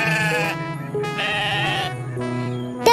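A cartoon goat in a Hindi animal fable bleats loudly and close, three drawn-out wavering calls in a row with short pauses between them.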